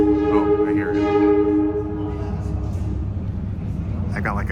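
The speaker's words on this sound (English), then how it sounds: "I'm cutting close, but I'm trying to catch this train. Oh, I hear it." An approaching train rumbles with steady low-end roar and strong tonal hum, loud and continuous from the start and easing slightly after two seconds, with a brief brighter squeal or horn-like tone near the end.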